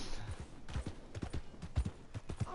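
Horse hooves clip-clop in a steady galloping rhythm in Red Dead Redemption 2, fairly faint and close, with no talking.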